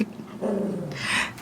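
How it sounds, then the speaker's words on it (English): A dog growls in a low, sustained rumble close by, swelling after a brief quieter opening and holding steady to the end, with no talk over it. "Sorry, that was my dog growling."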